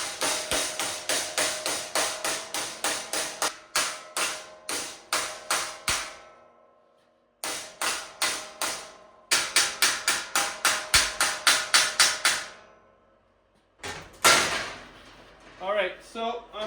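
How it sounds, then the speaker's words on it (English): Rapid body hammer strikes folding a sheet metal flange for a Toyota Land Cruiser wheel tub, in quick bursts, sharp ringing blows repeated in steady runs with short pauses between, close and loud. "I'm gonna hammer this flange down"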